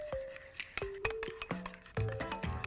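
A spoon stirs raw cacao, agave and melted coconut oil into a chocolate sauce in a glass, giving a close series of irregular ringing clinks and taps against the glass, with no voices.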